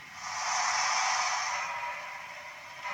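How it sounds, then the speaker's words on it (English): A broad, steady hiss of blowdown steam from a Bachmann model steam locomotive sound decoder swells up, holds for about a second, then tapers down, fairly loud and close. "Blow down."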